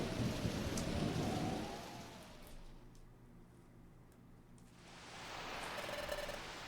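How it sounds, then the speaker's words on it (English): Heavy rain and a rolling thunderstorm from Pokemon Mystery Dungeon: Explorers of Sky, a dense hiss that thins into a low rumble before the downpour swells back, fairly faint overall. "It sounds like a storm is coming."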